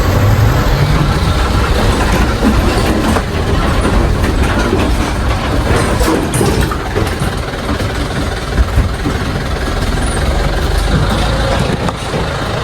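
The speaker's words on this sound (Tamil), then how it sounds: "ஸ்டார்ட் பண்ணுங்க இன்ஜின் சவுண்டே பக்காவாக இருக்குங்க" A school van's engine runs steadily close by, a loud, continuous rumbling drone with no letup.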